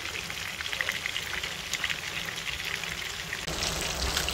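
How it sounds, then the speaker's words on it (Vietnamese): Heavy rain falling outdoors during a day of fishing in Soc Trang, Vietnam, a dense, continuous patter and hiss at moderate loudness with no talking. "Tính ra trời bữa nay mưa dữ rồi chứ."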